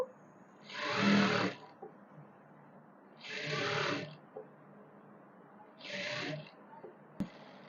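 A sewing machine stitching a sharara garment runs in three separate bursts of a second or so each, with quiet pauses between them, close and fairly loud.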